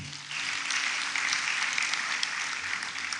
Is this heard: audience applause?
yes